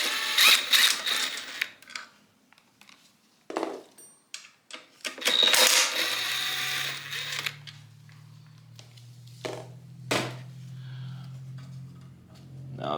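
Wrench loosening the two 8 mm bolts holding the oil sensor on a Predator 212 engine for a Coleman CT100U minibike: rapid close ratcheting clicks in bursts, metallic taps and a low mechanical hum, with no talking.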